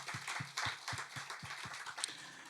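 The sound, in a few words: congregation clapping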